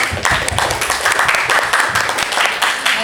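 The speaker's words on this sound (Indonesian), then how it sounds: "Kasih aplaus dulu dong untuk kelompok 3" An audience of training participants at a school in-house training session applauds group 3's presentation, giving a close, dense burst of steady clapping with some voices mixed in.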